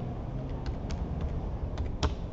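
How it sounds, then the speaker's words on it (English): A new password being typed on a computer keyboard, with a steady run of light, close key clicks and a few sharper taps, no voices. "You are now going to type the new password, then you confirm."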